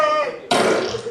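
A voice imitates a wet fart, a loud, close, brief vocal sound that shifts from a buzzing tone into a sputtering, spitty rasp lasting about a second.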